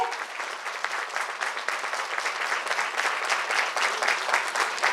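Sustained applause from an audience at a Central Railway International Women's Day celebration, a steady wash of many hands clapping at moderate loudness with small swells.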